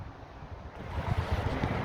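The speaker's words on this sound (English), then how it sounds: "it's windy outside today" Low, rumbling wind buffets the microphone outdoors and grows stronger after a second, with no one speaking.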